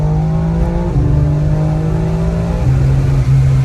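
A car engine drones loud and close as it accelerates with the wheels spinning during a test roll, its pitch holding steady and then shifting slightly near the end.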